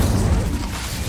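A Confringo explosion spell in Hogwarts Legacy lands as a deep, rumbling boom that stays heavy and sustained throughout, close and loud with no voices.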